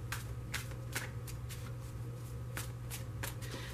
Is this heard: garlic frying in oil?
no